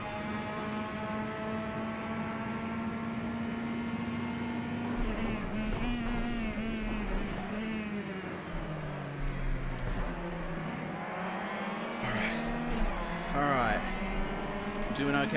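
A touring car's engine in a racing video game at the Ibarra circuit holds a steady, harmonic drone, then rises and dips in pitch through gear changes over about fifteen seconds, with a low rumble underneath and no talk.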